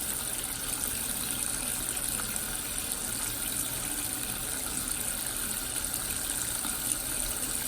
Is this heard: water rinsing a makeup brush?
yes